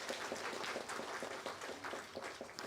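Congregation applause during a Korean Sunday church service, a steady dense clapping from many hands, fairly faint and continuous without talk.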